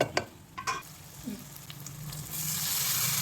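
Boiled potato and soya chunks are stirred in a hot pan for a vegetable chukka, with clattering spoon scrapes at first and then a rising, steady sizzle.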